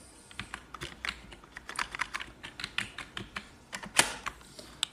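Rapid typing on a computer keyboard while searching a website, with a steady stream of close, crisp key clicks at uneven rhythm and a few louder strokes. No speech is present.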